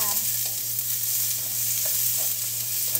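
Shrimp sautés in a pan with a steady, even frying hiss and faint crackles, close and continuous throughout.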